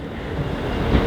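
A ScotRail Class 158 diesel multiple unit runs along with a steady broadband rumble and rail noise, heard from on board at a constant moderate level.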